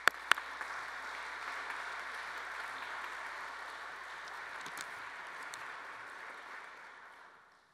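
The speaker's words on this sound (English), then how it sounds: "Let's give him a round of applause." A Brown University audience at BEAR Day 2022 welcomes a speaker with steady, moderately distant applause, a few sharp claps standing out at the start, holding for several seconds before gradually fading away.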